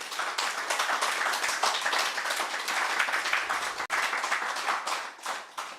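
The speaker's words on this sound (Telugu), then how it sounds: "ఒక్కసారి మీరు ఒక్కసారి క్లాప్స్ కొట్టండి." A seated audience at a willpower and meditation talk claps together, a steady, dense patter of many hands lasting several seconds with a brief dip midway, no voices over it.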